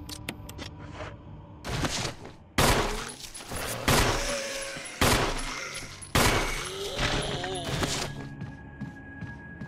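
Gunfire in the video game Resident Evil Remake, several loud separate shots spaced a second or two apart with echoing tails, and a voice talking between them.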